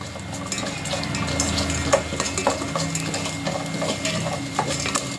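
Cumin seeds frying in a pan for jeera rice, a steady close sizzle with light stirring and occasional utensil clinks against the pan throughout.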